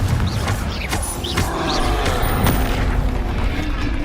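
Confringo and Bombarda explosion spells going off in the Hogwarts Legacy video game: several heavy booms and blasts in quick succession over a dense, rumbling game soundscape.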